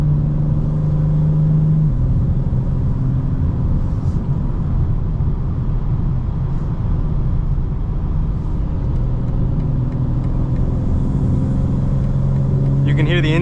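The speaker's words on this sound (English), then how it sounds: "You can hear the intake for sure" Engine intake of a 2025 BMW M4 Competition on the move, a steady loud low rumble with a droning tone that shifts pitch slightly, continuous throughout with road noise underneath.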